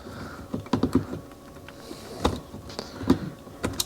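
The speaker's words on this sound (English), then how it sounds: "It requires me to cut these pieces here, which is why you need the box cutters." A box cutter snips and scrapes through small plastic pieces inside a Porsche 944. The sound is a faint, irregular series of close clicks and ticks, with no one speaking.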